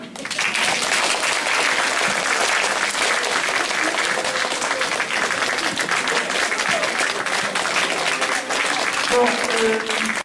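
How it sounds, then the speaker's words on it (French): Sustained applause from an audience fills the room, dense steady clapping lasting about ten seconds without letting up. "je vous demande de l'applaudir"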